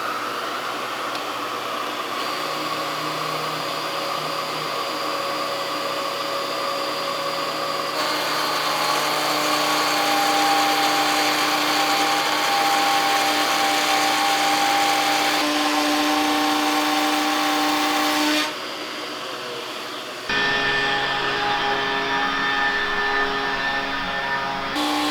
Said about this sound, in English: when I cut the grooves with a hand router